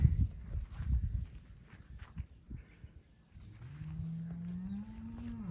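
A cow at a cattle sale gives a single long, close moo near the end, after shuffling hoof steps and rustling.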